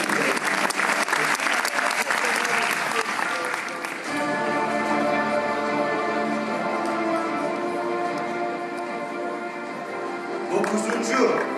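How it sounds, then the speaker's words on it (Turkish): Applause from an audience at a competition final, loud and continuous for about four seconds, then continuing more softly beneath music. "sizleri büyük alkışlar ile ilgili sahneye davet ediyorum"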